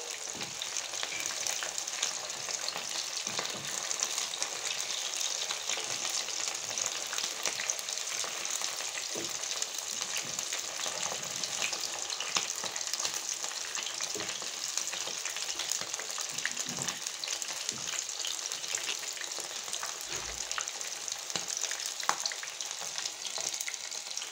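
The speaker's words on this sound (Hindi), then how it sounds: "इन रोटियों को कर देंगे फ्राई।" Rotis fry in a pan with a steady, close, even sizzle that holds at a constant level throughout, with no speech and only faint stirring ticks.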